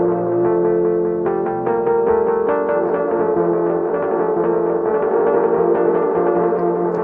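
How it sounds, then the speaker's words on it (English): A looped musical phrase runs through a Spotykach effects unit, its tone roughened by distortion and grainy bit crushing, playing steadily and fairly loud throughout with no talk. "Here's distortion on one side, bit crusher on the other."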